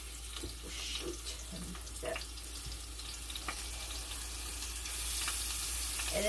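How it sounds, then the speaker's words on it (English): Chicken fries in hot oil in a pan, giving a steady close sizzle and crackle with occasional louder spits, while a voice talks briefly over it. "I gotta be careful here because it's hot grease. The pan was hot. I put the oil in."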